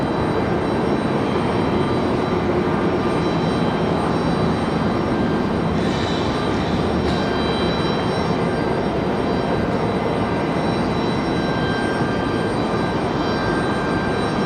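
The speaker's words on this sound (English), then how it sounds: "this A319 coming in from Philadelphia" An Airbus A319 arriving from Philadelphia lands at Raleigh-Durham International Airport, its jet engines making a loud, sustained, even roar with a faint whine on top, continuous and without speech.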